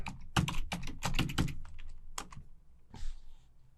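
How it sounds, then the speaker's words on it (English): Quick bursts of clicky keystrokes on a computer keyboard as an SMB network address is typed, with a brief pause before a final few taps, close and crisp. "Type Control-L and type in SMB"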